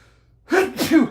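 A single sharp sneeze, loud and close, after a moment of near silence, with a short voiced tail.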